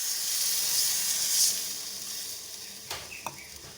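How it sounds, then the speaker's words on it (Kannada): A pot of bitter gourd and cucumber curry boils on the stove, giving a steady soft hiss and simmer with a couple of faint clinks near the end. "ನೋಡಿ, ಚೆನ್ನಾಗಿ ಕುದೀತಾ ಇದೆ."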